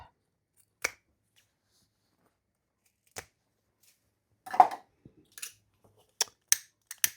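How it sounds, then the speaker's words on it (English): Scissors trim zippers in sharp, isolated snips close by. The cuts come at irregular intervals with long silent gaps between them, then a quicker cluster of snips and a soft rustle toward the end. "let's trim our zippers"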